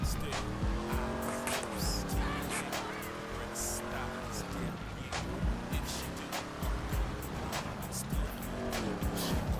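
A car accelerates on icy, snow-covered streets in GTA, its engine revving and tires squealing and skidding as it slips around. A voice talks over the driving.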